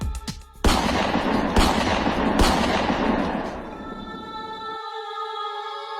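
A rapid burst of loud pistol shots, several sharp cracks in quick succession, followed by a fading ringing tone.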